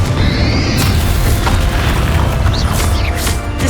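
A Confringo fire spell blast from the Hogwarts Legacy video game: a loud, booming burst of fiery impact over a dense, sustained rumble, with crackling debris through the short stretch.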